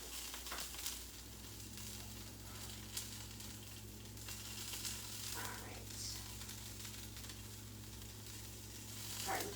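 Food sizzles in a frying pan during sandwich cooking, a steady close crackling hiss that holds evenly throughout at low volume, with faint kitchen clatter and occasional speech underneath.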